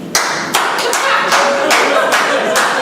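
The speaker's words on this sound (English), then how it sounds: "By a round of applause, should Phil be dead?" At a live comedy improv show, a small audience claps as a vote, a handful of loud, close, irregular claps spaced about half a second apart rather than a full ovation.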